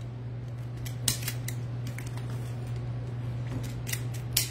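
Scissors snipping off pieces while making a blue flower craft, a few sharp crisp cuts spaced irregularly over a steady low hum, nearby and alone without talk.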